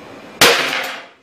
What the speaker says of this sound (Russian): Опять ложим тряпку, берем волшебный молоток и